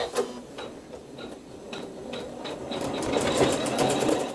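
A sewing machine stitches a cross stitch using embroidery thread, a rapid, even mechanical ticking that runs steadily and builds slightly louder, close up with no talk.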